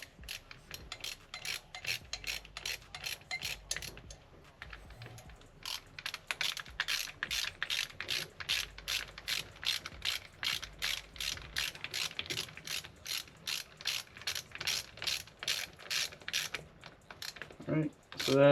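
A hand ratchet clicks steadily while snugging the cylinder head bolts on a Honda XR80 fitted with a BBR 95cc big bore kit, in quick even runs of close, crisp clicks broken by short pauses.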